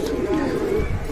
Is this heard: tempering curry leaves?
no